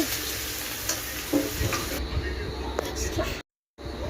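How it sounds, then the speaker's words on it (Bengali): Onions frying in hot oil in a pan, cooked until reddish-brown for a potato and jackfruit dish, give a steady close sizzle with occasional stirring clicks, briefly cutting out near the end. "তেলে পেঁয়াজ দিয়ে লাল লাল করে ভাজবো"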